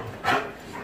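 A large dog lets out one short, sharp bark at close range, a brief burst with no talking over it.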